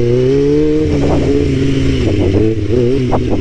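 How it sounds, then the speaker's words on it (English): A stunt motorcycle fitted with a 43T sprocket holds a wheelie at its balance point, its engine droning loud and close as the throttle is fed in with short rising revs and mechanical clatter. "I'm just trying to see how much throttle I can give it while I'm at balance point"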